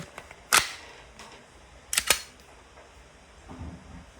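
An Umarex Glock 17 Gen 3 CO2 airgun pistol shooting 4.5mm steel balls fires two sharp, loud pops about a second and a half apart, followed by a faint knock in an otherwise quiet space.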